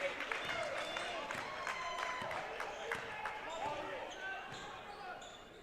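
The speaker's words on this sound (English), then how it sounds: "a good roar from the Leechburg crowd after that" Leechburg home crowd roaring at a boys' high school basketball game against Sewickley Academy, a steady distant gym-wide swell of cheering with scattered claps and squeaks, a commentator talking over it.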